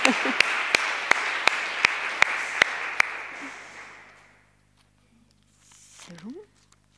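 A church congregation at a Pentecost service applauds, a broad wash of clapping with a few sharp, evenly spaced louder claps standing out, fading away after about four seconds before a brief voice near the end.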